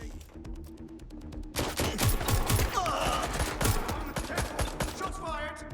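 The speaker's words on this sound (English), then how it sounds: "Shots fired." Rapid automatic gunfire in Watch Dogs Legion, a dense loud burst after a brief quieter stretch of sparse clicking, continuing steadily to the end with a voice faintly underneath.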